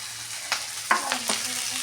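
Fish roe fritters fry in hot oil, giving a soft, steady sizzle with a few sharp spatters and clinks over about two seconds, heard up close.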